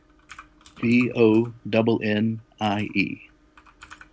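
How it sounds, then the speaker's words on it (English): Computer keyboard typing while a podcast host enters a comic label name, the key clicks running under loud, close conversation between several people. "I hear Jim typing it up as we speak"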